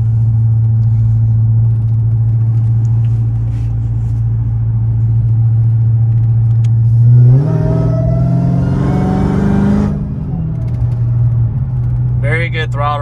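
A 900 hp Jeep Trackhawk with a bigger throttle body and intake idles with a loud, steady rumble, then revs hard and accelerates for a few seconds before settling back, with a voice heard briefly near the end.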